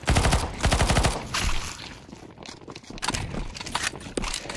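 Rapid automatic gunfire in the CS2 Zombie Escape shooter on the ze_8bit map, dense loud bursts of shots at the start, then scattered weaker firing and clatter with brief pauses, close and harsh.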